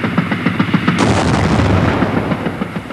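German naval guns fire at point-blank range on the Westerplatte garrison at the start of the Second World War, a loud, dense barrage of rapid booming reports under a constant roar, heard in archival wartime audio.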